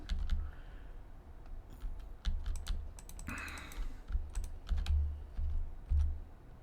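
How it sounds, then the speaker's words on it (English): A computer keyboard clatters with quiet, uneven bursts of key clicks during Minecraft play, some keystrokes spaced apart and others in quick runs. "I sort of apologize for the clicking noise"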